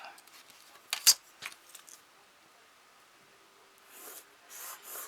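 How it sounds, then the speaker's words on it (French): Paper card being cut for a handmade snowy Christmas card, with a few short crisp snips and rustles near the start, then quiet faint handling and paper rubbing toward the end. "Et pareil, je m'aligne et je coupe."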